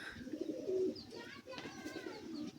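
Pigeons coo in low, rolling phrases as they gather at a tray of water to bathe, the cooing close and fairly soft, with faint background noise.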